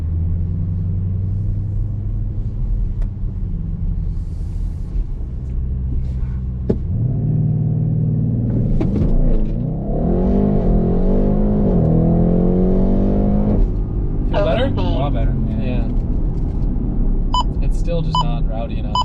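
Nissan Skyline fitted with a new downpipe revs hard, a loud rumbling engine that climbs in pitch through several throttle blips, with people talking near the end.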